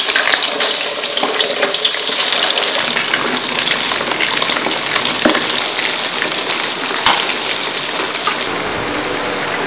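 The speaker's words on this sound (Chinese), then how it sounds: "锅里倒点油，鱼块下锅炸一下" Fish pieces frying in hot oil in a wok, a loud, continuous crackling sizzle that runs steadily throughout with no speech.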